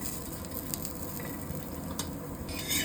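Food being roasted in a pan over a gas flame gives a steady, moderate sizzle, with a few light scrapes and pan clinks near the end and no talking.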